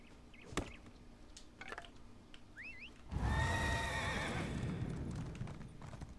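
Horse neighing in the Elder Scrolls Online video game: a loud, drawn-out whinny with quavering harmonics, following a few faint clicks and a short chirp, alone without talk.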